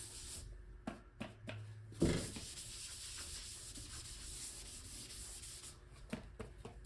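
Primer being sanded on a 1963 Ford Falcon Sprint body, a quiet, close, repeated rubbing of abrasive strokes in short bursts and longer sweeps with no talk.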